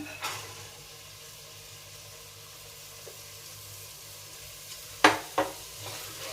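Field bean lentils (pitiki pappu) are stirred into masala frying in a pan, giving a soft, steady sizzle with a few sharp spoon scrapes and clatters near the end.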